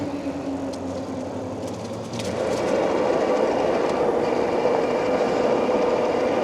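A DYU V8 fat tire 750W electric bike rides on throttle only, its motor and rolling noise swelling into a steady loud rushing hum with wind, continuous and close, with no talk.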